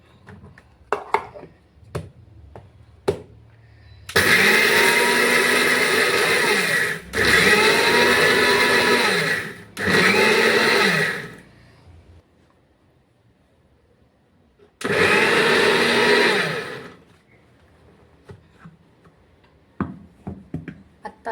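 A kitchen mixer grinder grinds sugar with cardamom in four loud whirring bursts, three close together and one later after a pause. Small clicks and handling knocks fall between the runs.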